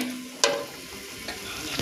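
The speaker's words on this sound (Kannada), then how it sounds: "ರುಬ್ಬಿರೋ ಮಸಾಲೆ ಚೆನ್ನಾಗಿ ಫ್ರೈ ಮಾಡಬೇಕು" Ground masala for chicken masala frying and being stirred in a pan: a soft steady sizzle with a sharp scrape near the start and lighter strokes later, quiet and close.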